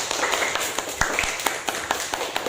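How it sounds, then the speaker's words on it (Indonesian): A classroom of students claps for a group that has just presented, close and loud, with individual hand claps standing out as sharp spikes in an uneven rhythm. "Beri tepuk tangan untuk kelompok Ar-Rahim"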